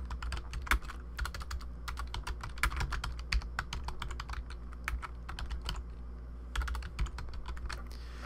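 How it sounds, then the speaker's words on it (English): Typing on a computer keyboard while entering text in photo-editing software, with rapid clusters of close, crisp key clicks, short pauses between bursts, and a low steady room hum beneath. "Go ahead and we'll type in our text."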